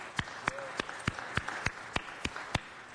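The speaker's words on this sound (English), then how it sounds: "please stand up and give them a big round of applause as we welcome them to the council chambers" A small gathering in city council chambers applauds as visiting high school students are welcomed, with about nine distinct, evenly spaced claps standing out over a softer background patter.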